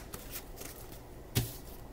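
Tarot cards being shuffled by hand, a few soft papery riffles and a sharper snap near the end, close and fairly quiet with no talking.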